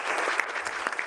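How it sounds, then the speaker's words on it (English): An audience at a blitz chess tournament in Toronto claps for the arbiters in dense, continuous applause that holds steady throughout the short burst. "Please give them a big round of applause."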